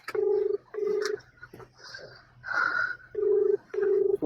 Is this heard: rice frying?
no